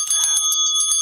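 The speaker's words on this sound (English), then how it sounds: "Big Bell." A bell rings out in a quick series of bright, metallic strikes, close and loud, with a short ringing decay after each hit and no voices.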